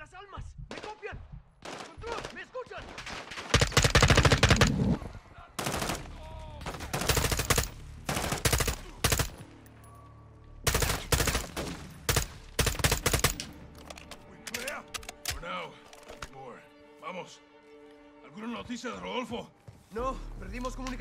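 Heavy automatic gunfire in the Modern Warfare 2 campaign on PC, loud rattling bursts and single shots repeating in clusters across the whole stretch, with people talking between and over the volleys.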